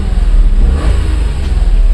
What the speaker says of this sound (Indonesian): Nah, ini suara mesinnya.